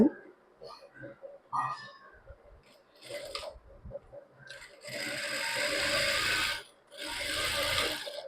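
A sewing machine stitches a blouse in a few short rattling runs and then a longer steady burst, near and fairly loud, with someone talking between and over the stitching.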